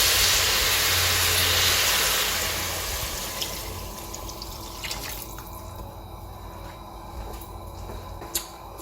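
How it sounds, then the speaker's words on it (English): Water pours into a pot of vegetable stock in a home kitchen, a loud rushing splash at first that fades into softer trickling, with a few drips near the end. "I added 1 liter of water to make sure the vegetables are all submerged"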